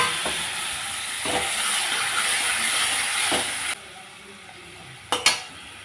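Spices and water hit a hot pan for a thin egg curry, bursting into a loud hissing sizzle that drops away abruptly, followed by a couple of sharp utensil clinks.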